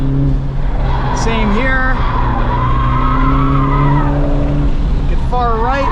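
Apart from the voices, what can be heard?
Honda Civic Type R FL5 tires under hard braking on track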